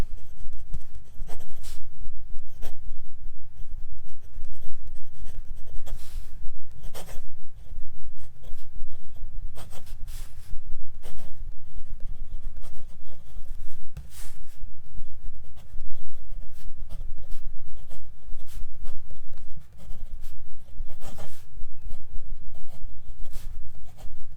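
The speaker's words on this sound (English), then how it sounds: "this is a pretty good fountain pen with a cool color" A fountain pen scratches across paper in continuous close-up strokes, a steady rustling scrape with brief pauses between words as handwriting is practiced, with no voices.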